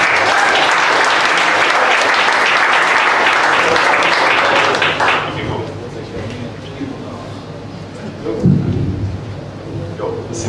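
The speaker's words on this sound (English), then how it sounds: "Give a big, warm round of applause." A conference audience at a team psychological safety talk in Cape Town breaks into loud, sustained applause in an echoey room, then the clapping fades into scattered claps and room noise.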